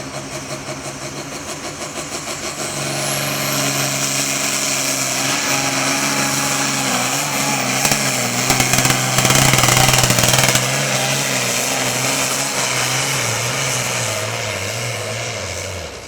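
A pulling tractor at a truck and tractor pull roars at full throttle, a loud continuous engine drone whose pitch shifts slightly as it strains down the track, with no voices over it.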